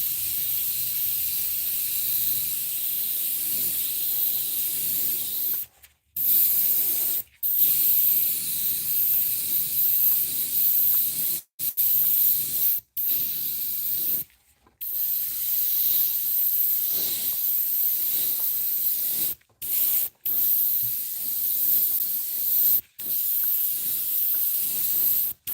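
An airbrush sprays paint onto a fishing lure to hide the lateral line, giving a loud, close, continuous hiss broken by several brief pauses.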